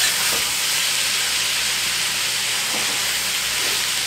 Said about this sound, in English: it's sizzling along pretty good now